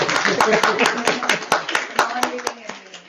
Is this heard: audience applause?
yes